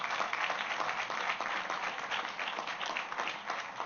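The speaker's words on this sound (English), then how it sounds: "Please give them all a big, big round of applause." Audience applause for a park opening ceremony honoring a city district board, a steady dense wash of clapping from a sizable crowd that holds even and loud throughout, with no voices on top.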